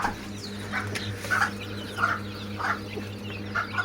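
Young quail chicks peep in short, repeated chirps over a steady low hum, with faint clucking of farm fowl nearby; no one speaks.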